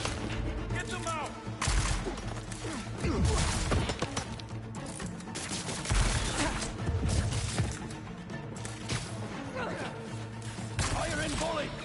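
Dense volleys of gunfire and crashing impacts fill a battle in Marvel's Spider-Man 2, loud and relentless, with shouted voices mixed in among the shots.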